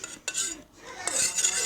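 Sticky homemade slime of glue and borax being stirred in a container, giving short wet clicks and scraping, soft and close, with no talking.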